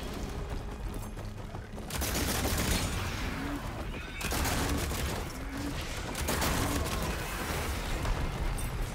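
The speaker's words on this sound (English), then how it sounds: "this upgraded shock bolt blaster can make a difference to the dudes" Shock bolt blaster fire in the Horizon video game, a dense crackling barrage of energy shots in several sustained bursts over roaring battle noise, loud and close with no talk.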